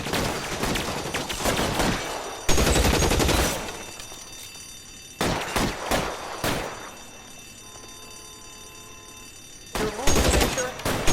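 Suppressing gunfire during a shootout in the video game L.A. Noire, loud bursts of rapid automatic shots in several separate volleys with quieter gaps between them.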